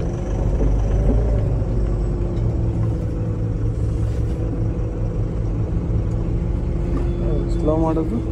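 A new truck's engine rumbles steadily in first gear, a loud continuous low drone heard from inside the cab, with a voice talking over it.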